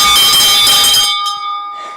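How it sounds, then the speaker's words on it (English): A single bright bell strike rings loudly and then decays into a lingering metallic hum, followed by a faint second touch. "Uncle, why do you not ring the bell anymore?"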